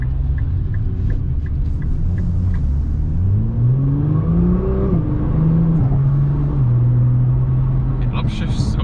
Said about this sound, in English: It upshifts so quickly in auto mode.